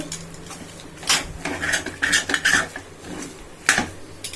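Millet upma is stirred in a metal pan, bursts of clattering scrapes and knocks from a ladle against the pan coming in uneven clusters, close and fairly loud, with quieter gaps between strokes and no talking.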